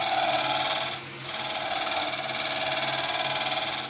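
A steady, rasping scrape of a tool cutting a spinning wooden bowl on a lathe, continuous and close, with a brief dip as the cut lifts before resuming.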